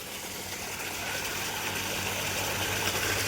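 A borewell water pump motor running from a 300-foot bore, drawing up muddy water after three days of rain, hums steadily with a low broadband drone. It stays continuous and fairly loud throughout, and no one speaks.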